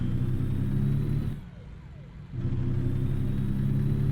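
A steady low engine drone from a truck in American Truck Simulator, rumbling continuously, briefly dipping quieter for a second before returning to the same level.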